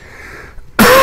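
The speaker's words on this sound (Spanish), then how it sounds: "perdón por las toses" A single loud, harsh cough bursts in near the end after a quiet stretch of low background hum, close to the microphone.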